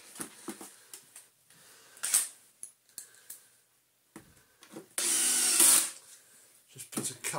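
A power driver runs screws into a vintage Miele S228i vacuum cleaner during a cord reel replacement, heard as a short whir and a longer, louder one a few seconds later amid close handling clicks and knocks.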